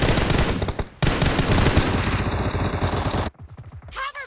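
Rapid automatic gunfire rattles in PUBG Mobile, loud continuous bursts broken by a brief pause, then sparser shots trailing off near the end, with no voices over it.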